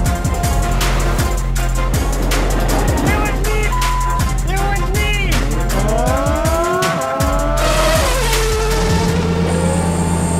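A sports car launches hard, its engine revving and rising in pitch through quick gear changes, tires squealing amid loud, continuous roaring with brief speech over it.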